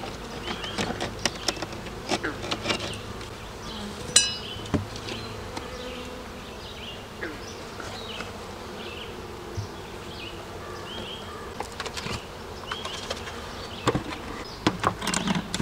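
Honeybees buzz densely around an opened hive, a close, continuous hum broken by sharp individual bees passing near, with no talking.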